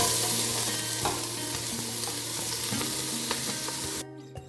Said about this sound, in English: It's going to make a very loud and very satisfying sizzle.